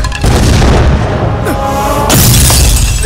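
A comedic explosion sound effect meant as biryani bursting, a loud booming blast filling the clip with a second heavier burst near the end.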